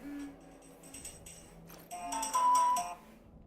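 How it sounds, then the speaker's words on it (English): A mobile phone ringtone plays in the video game This War of Mine, a bright melodic electronic tune with repeated tonal notes over a few seconds, moderately quiet, with no one talking over it. "That's my phone."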